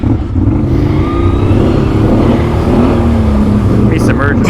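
An engine-swapped 2020 Can-Am Outlander XMR ATV with an 850 engine churns through a water hole, its loud, steady engine drone and splashing running throughout, with a brief higher rev near the end.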